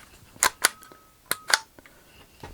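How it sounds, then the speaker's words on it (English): An unloaded firearm being dry fired, producing sharp metallic trigger clicks in close pairs, four loud snaps with fainter mechanical ticks between, close up and without talk. "But you can hear the trigger."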